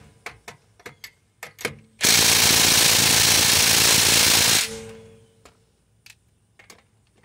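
A Ridgid subcompact 2nd gen impact wrench, model R872081, hammers at lug nuts on an extension in one loud, continuous burst of about three seconds. Sharp clicks and knocks come before it, and the sound trails off after.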